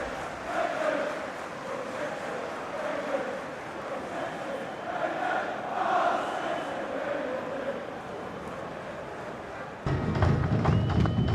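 A packed football stadium crowd at St. James' Park during a late Premier League match between Newcastle United and Manchester City roars steadily, a dense, sustained wash of chanting and noise that swells louder near the end.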